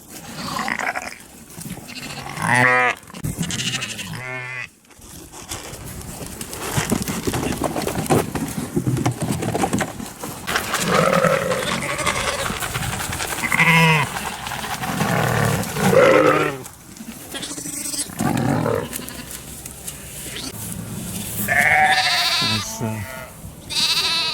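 Two lambs and a ewe bleat repeatedly at a livestock field, their calls coming from close to middling distance, with people talking between and over the bleats.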